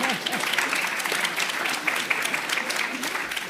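Audience applause at an LSE public lecture on alternatives to neoliberalism: a steady, dense wash of clapping from a hall crowd, even and sustained throughout with no voices standing out.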